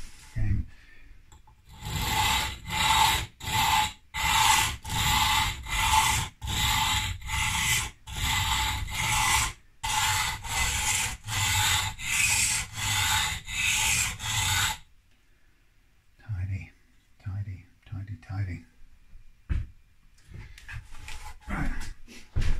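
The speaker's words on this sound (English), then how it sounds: "I'll do a bit of sanding, the old gel sanding game." Hand sanding on an Epiphone Broadway guitar bridge gives a loud, steady rhythmic rasp of repeated back-and-forth strokes for about fifteen seconds, then quieter scattered handling sounds with no speech.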